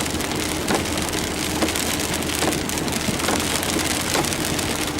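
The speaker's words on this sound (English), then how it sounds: "We've had a couple of inches of rain in the last couple of days and probably another inch today by the looks of it." Heavy rain in Weston Creek falls steadily on surfaces, a dense, even hiss with scattered louder drops, continuous and close without pause.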